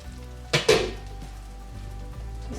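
Cumin seeds tempered into cooked lentils for dal makhani, a sharp burst of sizzling as the hot spices hit the pot, followed by a metal spoon clink and softer ongoing frying and stirring.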